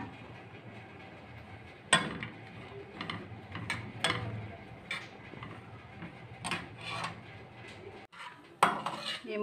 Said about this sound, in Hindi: ये मूंगफली इसमें डाल दें और इसको मिक्स कर लें।